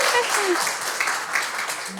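Audience applause at a lecture on rural basic income, a broad wash of clapping holding steady for the whole stretch, moderately loud, with faint voices mixed in.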